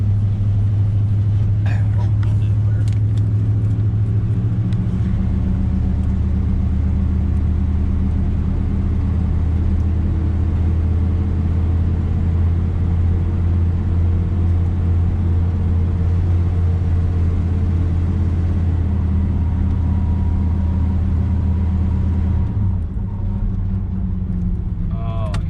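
A 1989 GMC service truck's engine drones in a steady low rumble while driving, continuous and fairly loud, easing off near the end; a person talks over it at times.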